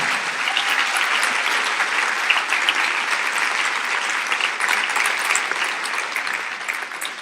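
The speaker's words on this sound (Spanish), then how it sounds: "Dale un aplauso a Él" Congregation applause during a church service, a steady wash of many hands clapping, even and sustained for several seconds at moderate loudness with no talk over it.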